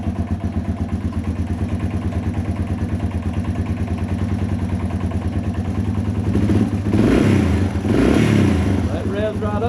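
A Yamaha TW200 motorcycle engine with running issues idles with a steady clattering rumble, then revs up loudly twice near the end.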